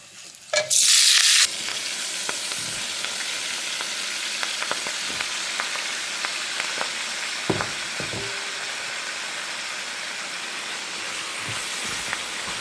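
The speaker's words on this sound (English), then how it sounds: "Now we're gonna go ahead and put the bok choy." Bok choy stir-frying in a pan on medium-high heat with roasted garlic and herb seasoning, giving a steady, continuous sizzle after a loud initial burst of hiss as the greens hit the hot oil, with occasional crackles and pops.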